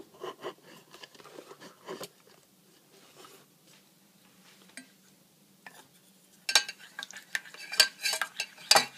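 A bamboo spoon stirring leftover food in a pot, with soft scraping and clinking in scattered bursts, a quieter stretch in the middle, then busier, louder strokes toward the end.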